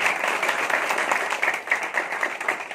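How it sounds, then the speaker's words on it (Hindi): An audience at a company event gives a steady round of applause for the company ambassador Shri Ramveer, dense clapping from many hands, moderately loud and sustained throughout. "एक बार जोरदार तालियां उनके लिए दीजिए"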